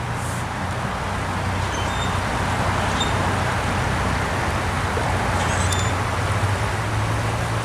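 Steady traffic noise from cars on a nearby road, a continuous broadband roar with no pauses, fairly loud and alone without talk.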